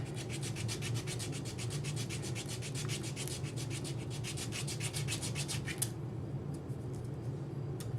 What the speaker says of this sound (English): then we're going to go on the other side and sand off the hearts